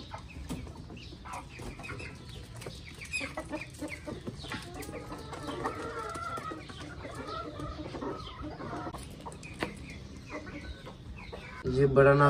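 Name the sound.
hens clucking in a coop while hatching eggs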